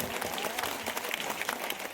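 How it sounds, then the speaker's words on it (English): Dense, steady applause from an audience at a school annual day celebration, honoring the boys' individual champion of the year; continuous clapping fills the whole stretch without any voices. "Let us give a big round of applause to Amit."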